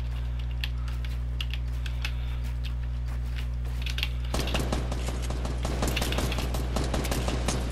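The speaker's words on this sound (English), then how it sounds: "Fuck, we're getting shot at." Gunfire in the video game Fortnite, scattered light pops at first, then dense rapid bursts of shots rattling over a constant low hum.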